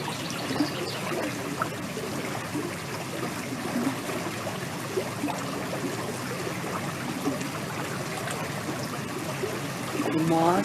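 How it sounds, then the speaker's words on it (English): Stream water flowing through a forest, a steady close trickle and babble, with a voice speaking softly over it. "flowing water"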